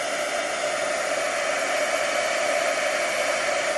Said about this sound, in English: here is our heat gun. I'm going to get it started